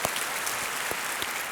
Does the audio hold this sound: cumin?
no